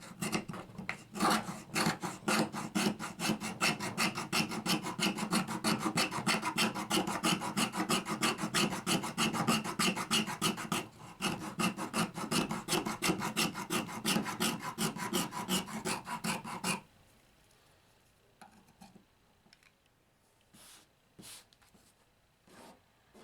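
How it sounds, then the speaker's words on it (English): An Old Hickory knife fuzzing fatwood into shavings makes fast, steady, close scraping strokes that run for about seventeen seconds with one brief break, then give way to a few faint taps and handling noises. "let's try to fuzz some fat wood."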